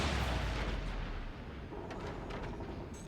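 Booming shotgun blast in a competitive multiplayer shooter match, a dense loud burst fading into rumbling noise.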